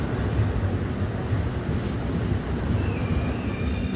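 The Nagercoil–Shalimar Gurudev Express pulls into Thiruvalla station, running about an hour late. Its rumble is a broad, steady roar with wind buffeting the microphone, and a faint high squeal creeps in near the end.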